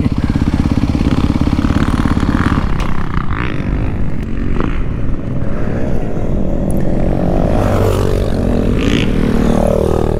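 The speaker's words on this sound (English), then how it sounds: "Pit bike, pit bike." A pit bike engine rides past on a dirt track at a motocross event with Kawasakis out that day, a loud continuous buzzing motor that rises and shifts in pitch as it passes, with faint voices in the background.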